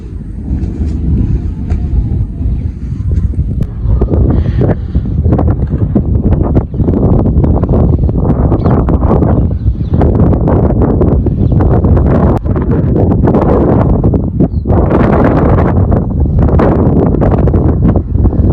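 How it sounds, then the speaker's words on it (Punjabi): Cool wind blows steadily across a village after evening rain, a loud continuous gusting roar buffeting the microphone throughout with rustling bursts and no one speaking. "ਹੁਣ ਠੰਡੀ ਠੰਡੀ ਹਵਾ ਚੱਲ ਰਹੀ ਹੈ"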